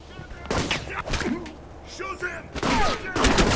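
Gunfire in the video game Alpha Protocol crackles in several short, loud bursts spread unevenly across the moment, with a voice speaking over parts of it.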